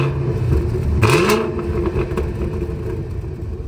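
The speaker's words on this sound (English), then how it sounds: "you get this quad exit baffled exhaust that can open up to become even more" A 2024 Cadillac CT5-V Blackwing with a quad-exit baffled exhaust gives a short, loud rev around the one-second mark, the engine note sweeping up and then settling back into a steady rumble.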